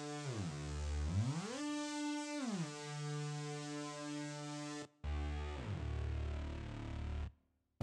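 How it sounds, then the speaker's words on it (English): An electric guitar sounds through distortion and delay effects, sustained chords sliding up and down in pitch before an abrupt cut, then one more ringing chord fading out in a long tail. "the one that I tried getting right now is pretty good, with a bit of distortion and some delays"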